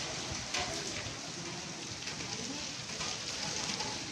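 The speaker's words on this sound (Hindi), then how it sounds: "आज बारिश हो रही है" Steady rain pouring down and pattering on surfaces, a dense, even hiss that fills the whole stretch with no breaks, moderately loud and heard from close by.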